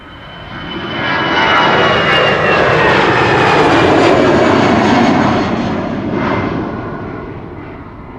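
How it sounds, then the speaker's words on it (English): An EasyJet Airbus A319 bound for Bristol thunders by at Amsterdam Schiphol, its loud jet roar building quickly in the first second, holding strong and close, then tapering gradually. "This is an EasyJet A319 to Bristol."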